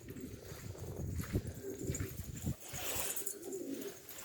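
Domestic pigeons coo in a loft on a cold day, low murmuring calls overlapping near and far amid wing rustles and movement, with no talk.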